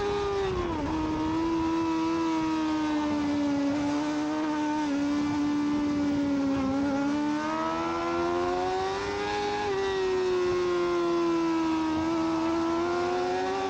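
A Yamaha R6 sport bike screams at high revs during an amateur open sprint race, its loud onboard engine note rising and falling through gear changes and corners without a break.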